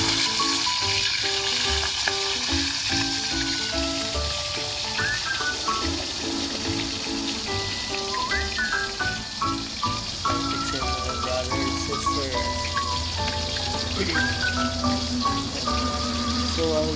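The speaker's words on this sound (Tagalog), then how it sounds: "Alright, magpiprito tayo ng isda." Fish sizzles and crackles steadily in oil in a new non-stick pan, a dense continuous fry heard up close, with music playing underneath throughout.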